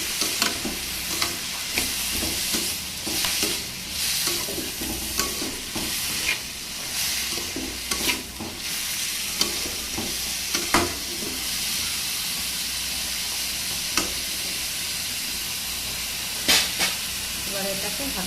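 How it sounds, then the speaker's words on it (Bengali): Papaya sizzles steadily in hot oil tempered with mustard seeds, with repeated stirring scrapes and clinks of a spatula against the pan over a continuous hiss. "এদিকে সর্ষের ফোড়ন দিয়ে পেঁপে ভাজিটা বসিয়ে দিয়েছি"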